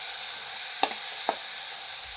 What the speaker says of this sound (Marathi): तुपावर असा तांदूळ भाजून घ्यायचा